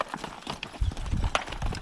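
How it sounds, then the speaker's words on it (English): A team of four draft horses hitched to a stone boat for pulling a boulder clip-clops with quick, uneven hoof beats close by, in a short burst. "He's going to use the horses, but 2 horses aren't going to do it."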